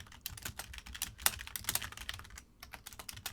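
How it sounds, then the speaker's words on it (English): Computer keyboard typing, a steady run of quick close key clicks with brief pauses and one short gap near the end, heard alone without talk. "you can hear me pitter-patter on the keyboard"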